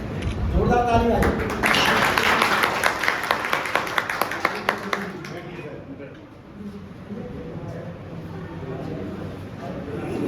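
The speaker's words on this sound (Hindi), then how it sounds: "जोरदार ताली बजाइए।" An audience claps in honour of someone retiring after long service; a burst of brisk, many-handed clapping rises for a few seconds and then fades, with a voice speaking around it.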